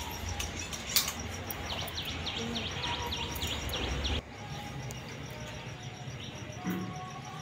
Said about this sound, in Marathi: चिमण्यांचा चिवचिवाट सुद्धा.